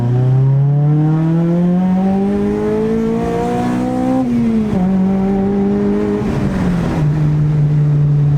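An Acura RSX Type S with a Kpro V4 tune and widebody kit accelerates hard in second gear, its engine note climbing steadily in pitch, dipping briefly, then rising again. The car is heard loud and close from inside the cabin with no talk.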